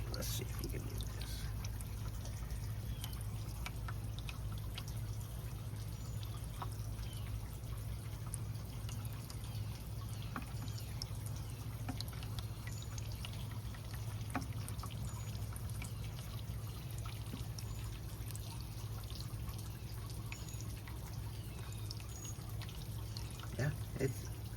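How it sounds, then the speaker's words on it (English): Water from a siphon trickles and drips steadily into a pond container, a continuous soft pour over a low background hum, with no voices. "So, we got the siphon in there, water's going in, and it's dripping."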